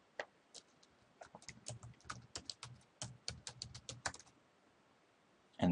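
Quick, uneven keystrokes on a computer keyboard as a file name is typed into a save dialog, a close burst of soft clicks running for several seconds before a pause.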